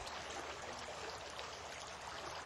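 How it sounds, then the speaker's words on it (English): Water pours steadily over hands being washed, a continuous close splashing stream with no break and no talking. "Muhammad, peace be upon him, poured water on his hands and washed them three times."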